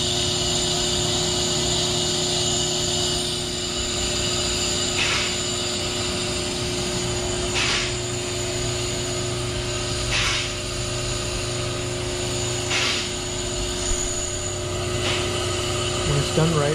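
A brake lathe resurfaces a rotor from a Mazda B2200 or Chevrolet Equinox with a very fine cut, a loud steady mechanical whine and hum with tonal drone and periodic soft swells, continuous throughout.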